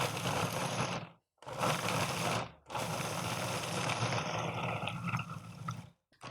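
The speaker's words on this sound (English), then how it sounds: "I just want to pulse this down for a second just to grind up that cacao paste" Food processor pulses in three bursts, grinding cacao paste into a mechanical whirring rattle, with brief silent gaps between pulses; close and steady.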